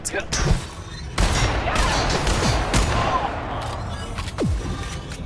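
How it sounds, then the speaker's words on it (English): Gunfire in The Outer Worlds cracks out in sharp shots followed by a dense, sustained rattle of combat noise, loud and close, with several distinct reports punctuating the barrage. "Who's shooting at me?"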